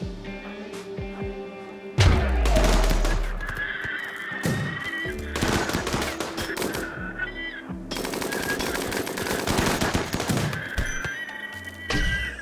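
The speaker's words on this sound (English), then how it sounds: "That was actually some good shooting by Wells there." Rapid gunfire from a firefight in the game Rimworld, with loud bursts of shots from about two seconds onward and again in a long later burst, mixed with neighing and other game sounds, no talking.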